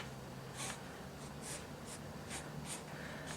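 A dermographic pencil scratches across paper in short, quick strokes, about eight of them at an uneven pace, quiet and close.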